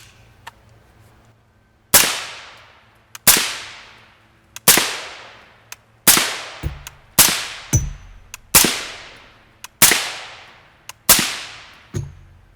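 Suppressed rifle shots from a 20-inch 5.56 upper fitted with a dedicated Turbo 5.56 suppressor, ten sharp cracks fired at a steady pace, each with a short decaying tail, loud and close.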